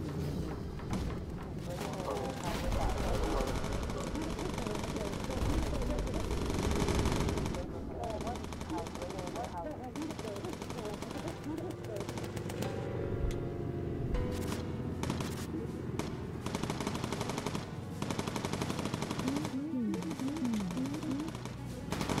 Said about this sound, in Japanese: めちゃくちゃ撃たれてるもんね、これ